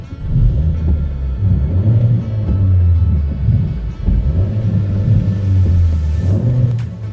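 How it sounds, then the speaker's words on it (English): A 2013 Vauxhall Astra J SRi with a 1.4 engine revved while stopped at a traffic light: loud low rumbling swells that rise and fall in repeated throttle blips, heard from inside the car, no talking. "But I will rev it for you."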